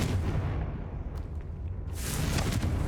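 A Confringo explosive spell goes off in Hogwarts Legacy, a deep rumbling blast that swells, dips briefly and surges again with a burst of crackling debris, loud and close.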